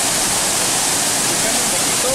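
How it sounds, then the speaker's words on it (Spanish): Waterfall at Cascada del Salto in Guachochi, Chihuahua, a steady, loud, continuous rush of falling water filling the whole scene with broadband roar. "La Cascada del Salto en Huachochi, Chihuahua."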